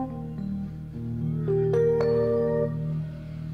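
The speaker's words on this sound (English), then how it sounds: "how about a Fender Rhodes?" Fender Rhodes electric piano notes with a soft bell-like attack ring out over sustained chords, a gentle melodic phrase played alone at moderate volume.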